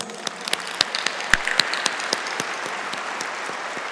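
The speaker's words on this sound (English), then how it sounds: "please give them all a round of applause" A graduation ceremony audience claps steadily, a moderately sized crowd producing dense, even applause with a few sharp nearby claps standing out.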